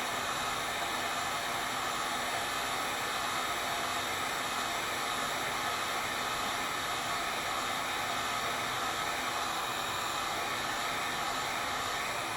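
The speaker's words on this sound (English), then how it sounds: "I'm just going to turn the heat gun on." A heat gun blows a constant, even hiss of hot air onto heat shrink tubing around a firing pin, steady and close throughout with no pauses or talk.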